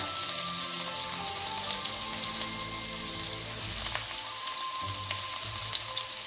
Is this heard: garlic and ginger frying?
yes